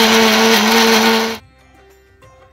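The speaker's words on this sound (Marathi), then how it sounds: "आता मिक्सरला बारीक वाटून घेऊया आपण।" A kitchen mixer grinder whirs loudly, blending a cooled spinach mixture for palak paneer, then cuts off partway through, leaving a quiet room with faint clinks.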